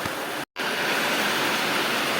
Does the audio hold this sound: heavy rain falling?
yes